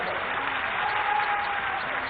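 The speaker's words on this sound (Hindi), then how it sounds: "तालियां बजा के एक बार फिर से" An audience at a BJP Madhya Pradesh political rally bursts into continuous applause, a broad, even wash of clapping heard from a slightly distant, muffled vantage.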